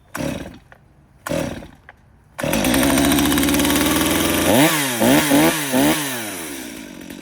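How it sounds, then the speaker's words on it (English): A chainsaw is pulled twice with short sputters, then its engine catches and runs loud and close, idling briefly before several quick revving bursts. "that is what I found to be the easiest way to start a chainsaw"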